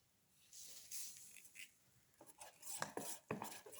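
Ingredients for black pepper fish finger chickpea fritters being mixed in a bowl, with a spoon scraping and clinking against the dish in uneven bursts, close and moderately loud, with no talking.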